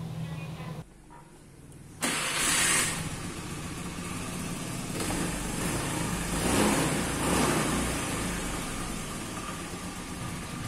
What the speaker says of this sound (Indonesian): Untuk kondisi mesin ini masih halus apa loh.